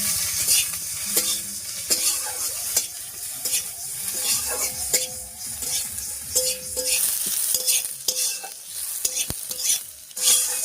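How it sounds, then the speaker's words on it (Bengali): Spices for a Bengali river-fish curry frying in a pan: a continuous hot sizzle under repeated rhythmic scraping strokes of a spatula, close and fairly loud, with nobody talking. "মশলাগুলো সব ভাজা হয়ে গেছে, এবার নামিয়ে নিচ্ছি।"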